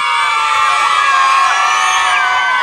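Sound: children's crowd cheering and shouting for a team

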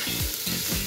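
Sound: vegetables frying in a pan for french toast

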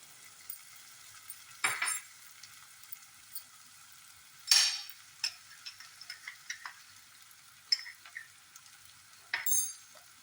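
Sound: onions sautéing with salt in a pan for masala

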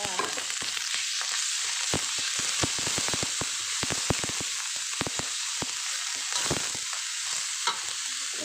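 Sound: pork and garlic stir-frying for Thai basil stir-fry

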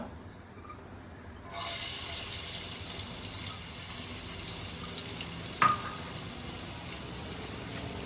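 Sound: onion frying in a pan for crab curry

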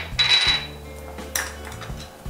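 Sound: stirring mutton roganjosh in a pot

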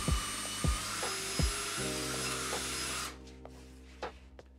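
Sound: cordless drill spinning 3D printed harmonic drive gearbox

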